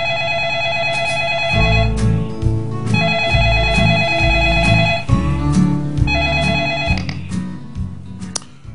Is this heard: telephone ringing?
yes